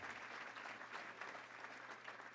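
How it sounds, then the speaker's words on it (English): An audience at a Little Rock Touchdown Club meeting gives a round of applause, steady and fairly even clapping that sounds somewhat distant and soft. "Let's give those folks a round of applause."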